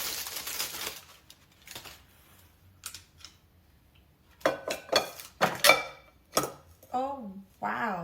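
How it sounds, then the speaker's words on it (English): Redchef ceramic nonstick pots and pans clink and clatter as they are handled and fitted with a detachable handle, a burst of sharp metallic knocks close by, with a person speaking at the start and end. "Now this is the one with the handle that attaches to it for all the pots and pans."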